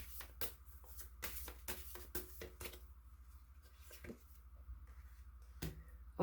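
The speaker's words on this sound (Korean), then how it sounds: "조언 좀 카드 뽑아보도록 하겠습니다" Tarot cards are shuffled by hand in a quick burst of crisp riffling slaps, followed by quieter card handling and a faint background hum.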